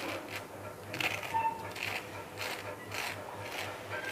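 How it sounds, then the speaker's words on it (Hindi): A crispy fried bread roll is pressed and broken, giving faint, repeated dry crackles and crunchy rustles in quick irregular bursts over a low background hum. "आप इसका आवाज़ सुन सकते हैं"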